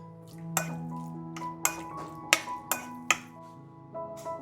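Utensil clinks and taps against a bowl as chicken is mixed with oyster sauce, sesame oil and regular oil in a marinade, several sharp clinks spaced irregularly over a quiet background, with no talking.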